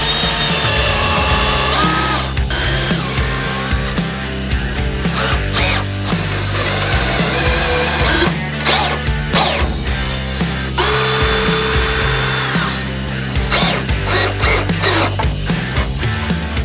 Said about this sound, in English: I am going to attempt to do some pilot holes first before I just try to put the screws in so I don't split the wood